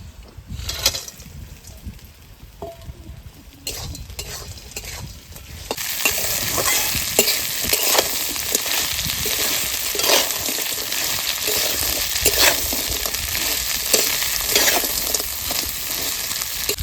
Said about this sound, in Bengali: পেঁয়াজ ভাজা হয়ে গেছে এবার কাঁকড়াগুলো দিয়ে ভেজে নেবো আবার